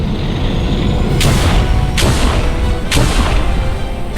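A ship lifts off in the Star Wars game Jedi Knight on Manaan: a steady, loud low engine roar runs throughout, broken by three heavy, evenly spaced booming blasts, with no talk.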